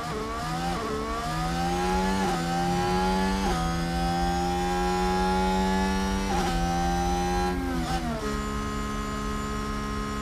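An F1 car in F1 Manager 2022 accelerates with a loud, high engine whine that climbs through the revs. Several sharp gear shifts break the rise, and no one talks.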